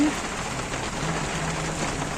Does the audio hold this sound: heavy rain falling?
yes